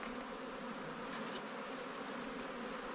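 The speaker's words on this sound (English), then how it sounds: "we've got plenty of wasps that were making their way" Wasps buzz around a beehive on a ranch, a soft continuous insect drone from several wings close by, steady and unbroken with no voices.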